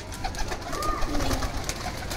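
Punjabi pigeons cooing softly in a noisy outdoor setting, low throaty calls rising and falling over steady background hum.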